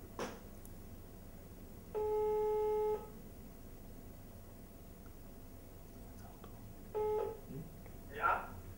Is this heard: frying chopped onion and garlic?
no